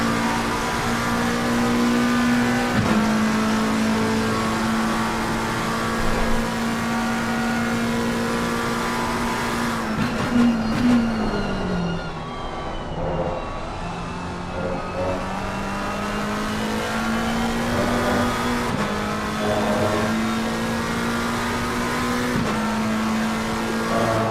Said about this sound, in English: He's just come out of the pits and getting up to speed now.